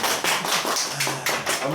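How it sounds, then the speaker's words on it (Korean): Applause from an audience at a workshop gathering in Korea, a dense burst of clapping with rhythmic surges that holds steady and fairly loud for under two seconds. "박수 부탁드립니다."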